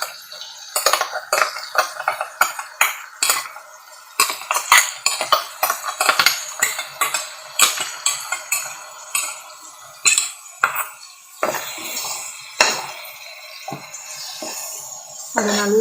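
Ground masala being stirred into a pot of buttermilk curry with okra, a busy run of metal spoon clinks and scrapes against the pot, close and rhythmic, continuing throughout.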